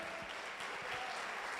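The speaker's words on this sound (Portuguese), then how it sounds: "dê um aplauso ao Senhor" A church congregation applauding during a Portuguese-language sermon, a steady wash of clapping with no voices on top.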